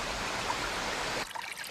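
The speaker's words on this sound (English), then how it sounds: "We're up in the mountains at the start of a river." A mountain stream high up at the source of a river rushes in a steady, close wash of water noise, cutting off abruptly near the end.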